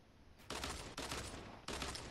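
Sustained bursts of automatic gunfire in a battle royale video game duo squads match, three loud rapid volleys separated by brief pauses, close and dense with no voices.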